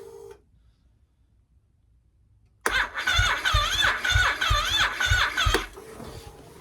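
A reluctant car engine is cranked after near silence, the starter whining and churning loudly in a rapid, uneven rhythm for about three seconds before dropping to a quieter running hum.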